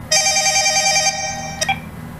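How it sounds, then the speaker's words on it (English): A telephone rings once, a loud electronic trilling burst of about one second, followed by a brief softer chirp, with a low steady background hum. "this probably be better on this phone because it keeps ringing"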